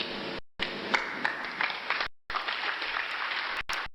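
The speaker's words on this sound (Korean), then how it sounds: "우리도 박수를 쳐줘야죠." Applause during a Wednesday church worship service, a steady broad clatter of many hands lasting about four seconds, broken by a couple of brief dropouts, with no talking over it.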